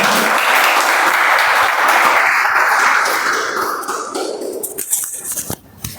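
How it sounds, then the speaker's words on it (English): Audience applause at a Toastmasters club meeting, a dense steady wash of clapping that holds strong for about four seconds, then thins and fades into scattered claps. "Huge round of applause, ladies and gentlemen."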